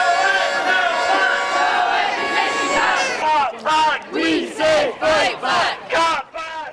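Roughly 2,000 protesters march down University Avenue over university cuts, with a loud mixed crowd roar first, then a rhythmic chant in evenly spaced bursts.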